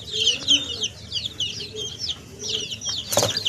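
Twenty-day-old Colombian Light Brahma chicks peep and cluck in a steady chatter of high, chirping calls, close and continuous, with one brief louder squawk near the end.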